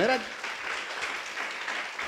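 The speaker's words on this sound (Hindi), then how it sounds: "ताली बजाओ जोर से।" A church congregation in Itanagar, Arunachal Pradesh bursts into brief, loud applause, a dense wash of clapping that carries on for about two seconds after a voice at the start.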